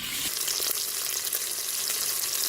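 Pork pieces browning in a Cookeo pressure cooker for a beer and paprika sauté, a steady loud close sizzle and crackle of frying with no talk.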